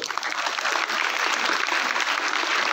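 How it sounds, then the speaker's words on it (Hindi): Steady, dense applause from an audience honoring a director and chairman at a school or institutional ceremony, filling the full stretch at an even level with no break. "हमारे निदेशक और अध्यक्ष महोदय के लिए आप जरूर तालियां बजाएं।"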